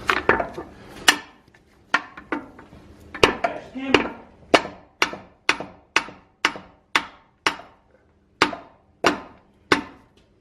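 Sharp, ringing hammer strikes repeat in a steady rhythm, about fifteen blows, close and loud, during a caster kit installation on a Holden Commodore, with faint background noise between hits.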